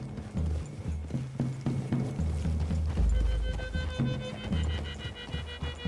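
Rapid rhythmic clip-clop of horse hooves galloping in Red Dead Redemption 2 over a continuous music score, loud and driving throughout, with a deep rumble partway through.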